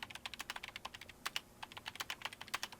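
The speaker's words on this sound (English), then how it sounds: "began entering commands on his keyboard" Rapid keystrokes on a computer keyboard as commands are entered, a steady run of crisp, close clicks with a brief pause partway through, no voices.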